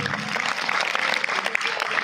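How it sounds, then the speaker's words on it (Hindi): An audience at a Hindi poetry recital (kavi sammelan) at a school gives steady, continuous clapping, a dense crowd of applause throughout with no voice over it. "तो ये मेरी आवाज के साथ आपकी तालियां आ जानी चाहिए।"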